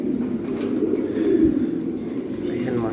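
Show King pigeons on a home farm coo softly and continuously at close range, a low rolling murmur with no clear pauses.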